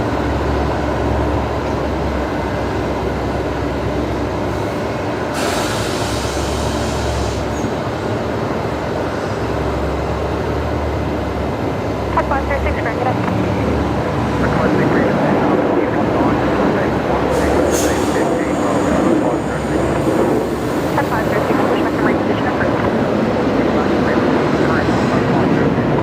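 A Qantas jet inbound from Sydney lands on runway 19 left at Brisbane Airport at night, a long muffled roar building in the middle, heard under occasional speech and background chatter.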